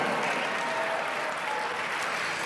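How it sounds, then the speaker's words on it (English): An audience at a network marketing event breaks into steady, dense applause, a loud continuous wash of clapping with no letup for the whole stretch. "Give him a tremendous round of applause"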